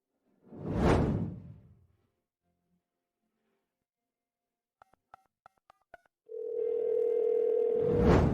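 A telephone handset is picked up with a soft whoosh, a short series of keypad tone beeps follows, then a steady, continuous dial tone hums close by, alone.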